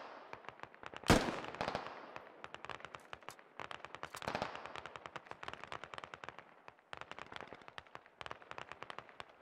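Rapid bursts of gunfire from a Squad video game firefight: dense, crackling automatic shots that repeat steadily, with one loud blast near the start and another heavy burst later, all without talk.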